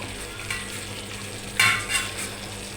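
Grated coconut being stirred in a hot pan for a flattened-rice and plantain snack, giving a steady low sizzle with a louder scraping stir burst partway through.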